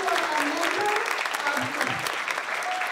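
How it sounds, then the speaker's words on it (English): An audience at a professional day keynote breaks into a round of applause, a dense, sustained clapping with faint voices and murmurs mixed in beneath it. "So I want to make sure that we give Peter an extra round of applause"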